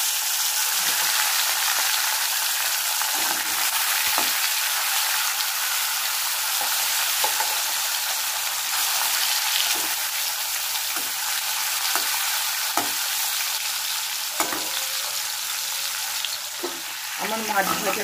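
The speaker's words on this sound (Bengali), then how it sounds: "প্রথমে আমি মাছগুলো ভেজে নেব।" Fish frying in hot oil for bhola macher jhal, a steady loud sizzle with occasional crackles and pops throughout, close up with no talking.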